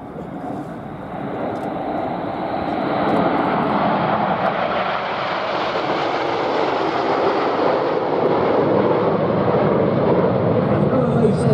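Red Arrows jet aircraft flying past in Diamond formation at an air show for a VE Day anniversary at Duxford: a broad, loud jet roar that swells and holds steady, while an announcer talks over it.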